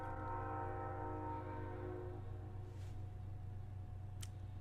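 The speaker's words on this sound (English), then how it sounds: "Let me just wait till that train passes." A train passes nearby, a steady low rumble with sustained tonal hum that gradually fades over several seconds, with no talking.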